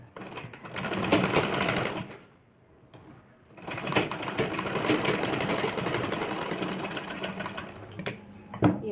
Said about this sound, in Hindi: तो हम इसके बीचों बीच मोटी मोटी सिलाई लगा देंगे।